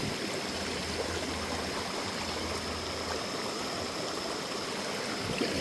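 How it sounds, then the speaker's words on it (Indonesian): A small river stream flows near a village villa in the Mount Burangrang hills of Purwakarta, giving a continuous, close, even rush of water with no voices. "dekat villa ada sungai kecilnya tuh"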